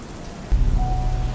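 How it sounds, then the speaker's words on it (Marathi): Heavy rain falling steadily, a broad rushing wash that swells suddenly louder halfway through and stays close and dense, with no talking. "आज जरा पाऊस जास्त होतोय है ना?"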